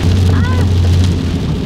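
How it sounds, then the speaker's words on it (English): Hail pounds a slammed Honda Prelude, heard from inside the car as a dense, loud, unbroken patter over a low steady hum. "No, this is definitely hailing."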